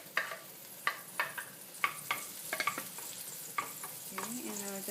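Minced garlic sizzling in a pan while being stirred, with repeated crisp utensil scrapes and taps over a light, continuous frying hiss, heard up close without speech.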